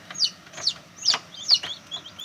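Newly hatched chicks peep inside an incubator, giving five or six bright, rising chirps spaced roughly half a second apart, close and clear over a faint background with no talk.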